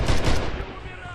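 Machine gun fire in Red Orchestra 2 sounds in a short, loud burst of rapid gunfire indoors that fades over about a second, with no voices over it.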